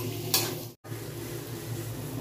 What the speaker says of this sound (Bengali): এবার একটু সময় নিয়ে সবকটা জিনিসকে আমি কষিয়ে নেব